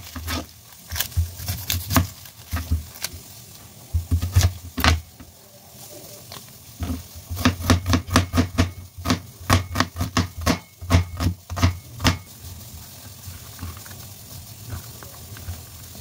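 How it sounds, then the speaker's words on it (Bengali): A knife chops onions in quick bursts of sharp, even strokes, with pauses between runs, close by and with no talking. "এই যে পেঁয়াজগুলো কেটে নিচ্ছি"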